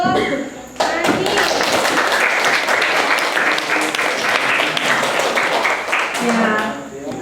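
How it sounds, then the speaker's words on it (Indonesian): Audience applauding a presenter at a university teaching session, a loud sustained burst of many clapping hands lasting several seconds, with brief voices at the start and end. "tepuk tangan untuk Nani"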